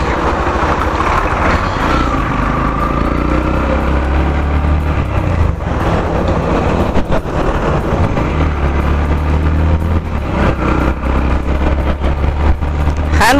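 A Yamaha FZ X motorcycle on a test ride, its engine note running steadily and close throughout with road noise and faint shifts in pitch as the bike moves.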